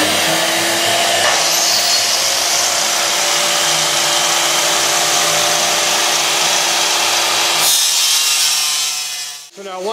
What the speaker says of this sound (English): We're going to cut this to fit an area of the floor